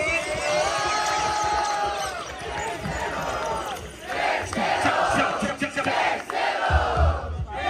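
A crowd at a rap battle roars and cheers continuously, a dense wall of voices and shouts that dips briefly then swells again, with some talk mixed in.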